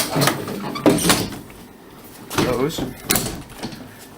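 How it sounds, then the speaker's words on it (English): Bedroom closet doors sliding shut, a few scraping, squeaky knocks spread across a few seconds while someone talks over them. "When you close my closet doors,"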